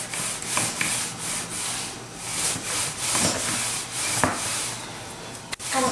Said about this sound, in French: sur un plan de travail fariné, je vais l'étaler finement à l'aide d'un rouleau à pâtisserie